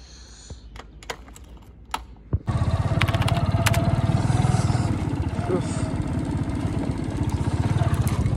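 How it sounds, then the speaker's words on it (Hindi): A motorbike engine starts after a few sharp clicks and then runs steadily with a loud, rapid putter, idling and pulling away on a cold winter day, close by; a voice is faintly present. "मैं बाइक निकल के चला रहा हूँ अभी फिलहाल।"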